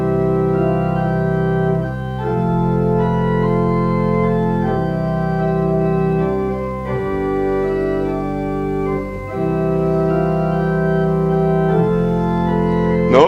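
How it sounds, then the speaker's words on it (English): Organ with bass pedals playing the hymn Sweet Hour of Prayer, steady sustained chords moving slowly over a deep pedal line, loud and unbroken throughout. "So let's play this Sweet Hour of Prayer with the pedals, but without the cheat."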